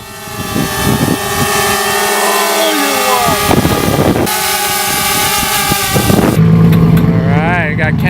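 A BMW E36 with an LS engine drifts, its engine roaring loud and sustained with rising and falling revs, harsh and close, while a voice talks over it.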